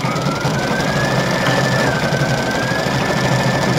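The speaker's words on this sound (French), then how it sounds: "Donc là, on est en train de broder les petites fleurs." A Brother home embroidery machine stitches small flowers onto fabric, giving a loud, close, continuous motorized whir with a faint rising whine and no pauses or voices.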